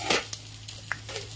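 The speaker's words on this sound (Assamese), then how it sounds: "শুকান জলকীয়া এটা দিছোঁ, আকৌ পাঁচফোৰণ মছলা অলপমান দিছোঁ" A dried chili and panch phoron spices hit hot oil in a pot after fish frying for a pumpkin and fish curry, giving a steady close sizzle with a few sharp crackles and pops.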